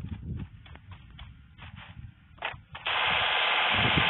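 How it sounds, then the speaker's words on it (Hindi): Gunfire in the mobile battle-royale game Free Fire comes as irregular bursts of sharp, rapid shots, followed by a sudden wash of loud, hissing game noise. "अरे पांडे जी पांडे जी ये मैं कहाँ गोली चला रहा था"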